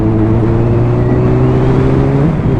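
A 2007 Honda CBR600RR's exhaust drones steadily while riding, a loud, close, sustained engine tone holding nearly constant pitch.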